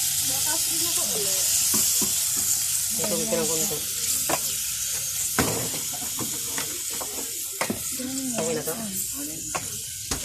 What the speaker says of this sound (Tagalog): Gisahin natin hanggang sa ganyan ang itsura.